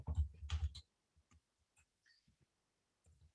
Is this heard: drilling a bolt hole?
no